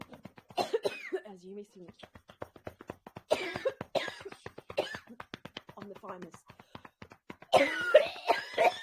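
A person speaks with pauses, broken by several harsh coughs and throat-clearing bursts, close and fairly loud.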